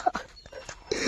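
A dog gives a few short, close whimpers and yips in quick succession, high and thin, ending in a slightly longer whine.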